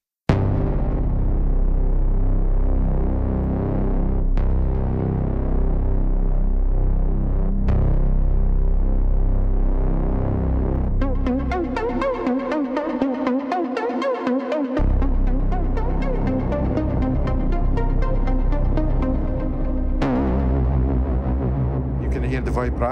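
GForce Oberheim OB-E synth plugin plays sustained tones with vibrato, a rich wavering drone that changes timbre partway and ends with a brighter, busier passage, loud and alone without talk.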